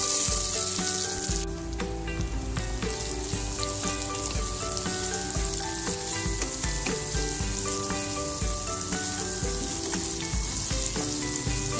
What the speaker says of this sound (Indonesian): Sekarang kita tumis ya.